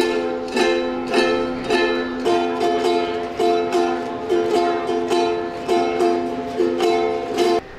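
Ukulele strummed in a steady rhythm, bright chords repeating with regular down-up strokes, close and unaccompanied with nobody speaking.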